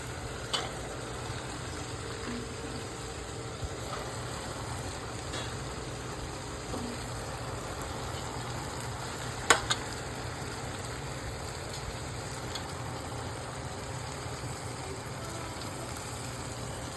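Broad beans with turmeric frying in a pan for an egg curry, a soft continuous sizzle at low level with a steady hiss throughout, one brief clatter near the middle and no talking.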